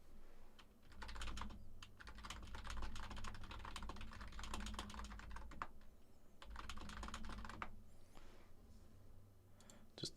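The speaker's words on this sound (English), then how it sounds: "Just typing something real quick." Dense, steady keystrokes on a computer keyboard fill the whole stretch, close and continuous, with a few brief pauses and no speech.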